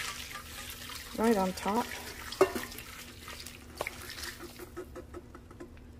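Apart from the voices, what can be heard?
hot broth poured over roasted chilies in a bowl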